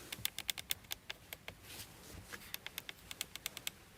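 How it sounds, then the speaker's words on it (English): Crisp clicks from the steering-wheel buttons and pull-up switches of a 2023 Honda Civic e:HEV hybrid, about two dozen sharp, close taps in quick irregular bursts with a short pause midway. "Nice clicking sounds at the buttons here at the steering wheel, especially at these switches that you can pull"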